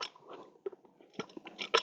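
A difficult, sensitive young horse under training chews and mouths at its bit, giving irregular close crunching and clicking bites, a quiet cluster early on and sharper, louder bursts toward the end.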